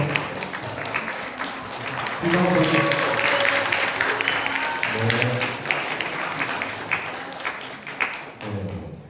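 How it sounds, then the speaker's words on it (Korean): A church congregation at Sunday service applauds, a loud, sustained burst of clapping that runs under a voice speaking intermittently and tapers toward the end. "박수 좀 한번 할까요?"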